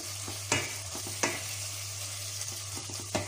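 Mushrooms sizzle steadily as they fry in a pan, with a few sharp scraping clicks of stirring breaking through the constant close-up hiss.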